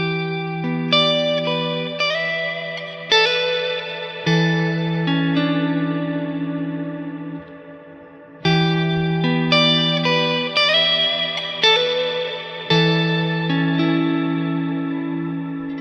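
Electric guitar played through a Neunaber Immerse stereo reverb pedal: sustained chords and single notes ring out with long, deep reverb tails, phrases separated by a brief pause, no talking.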